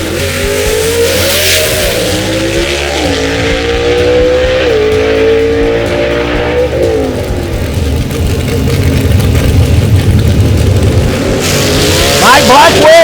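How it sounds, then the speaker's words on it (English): Gasser drag race cars from the Southeast Gassers Association roar down the strip at Brainerd Motorsports Park, engines revving hard and shifting through gears, loud and continuous, with an announcer's voice talking over the engine noise. "Good drag race right here, folks."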